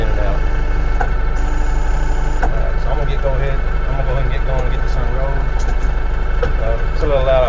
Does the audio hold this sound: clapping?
no